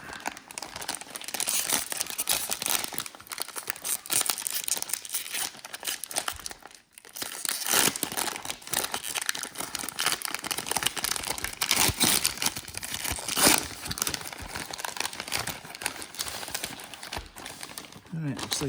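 A 2023-24 Haunted Hoops NBA card pack and its foil wrapper are torn and crinkled close up, with continuous irregular crackling and rustling for many seconds.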